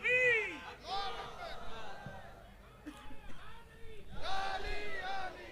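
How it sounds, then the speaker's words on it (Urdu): At a large religious gathering, a crowd shouts the Takbir slogan, swelling into loud rhythmic group calls. Bursts of massed voices alternate with a leading shout, echoing through the open space. "نعرہ لگاؤ بھائی، نعرہ لگاؤ."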